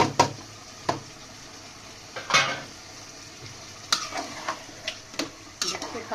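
Chana dal goes into hot oil in a pan as a spoon stirs, with sharp scraping and clinking strokes at irregular intervals over a low background sizzle.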